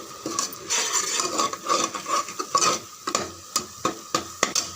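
Masala and ground spices sautéing in oil for a chicken gravy, a spoon scraping and stirring in a pan in repeated strokes over a soft sizzle, close up with no talking.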